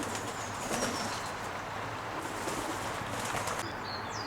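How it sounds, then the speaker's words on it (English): Racing pigeons cooing in a backyard aviary belonging to a premier pigeon-racing loft in Godalming, soft steady coos with occasional chirps and wing flaps over a continuous outdoor background, no talk. "The Durrant partnership like fresh air for the pigeons, and it's beautiful aviaries for their babies."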